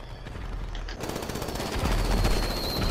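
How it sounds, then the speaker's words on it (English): Fireworks in GTA V Online crackle in rapid bursts like gunfire, a quieter stretch giving way to a louder, denser barrage of pops after the first second. "I see fireworks!"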